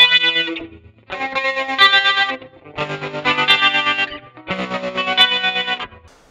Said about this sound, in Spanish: cambié el amplificador, usé otro y le puse un chorus. Le puse también un trémolo que se escucha bien de fondo.